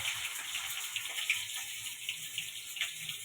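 Chopped tomatoes hit a hot pan of oil tempered with whole cumin and two cardamom pods for bharali ghonto, raising a steady, close, hissing sizzle that holds throughout with no talking.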